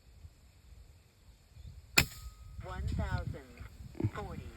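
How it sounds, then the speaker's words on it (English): An FX Impact M4 air rifle fires a single sharp, loud crack outdoors at a windy shooting range, followed by a faint ringing tail while someone talks over the scene. "let's fire one more there"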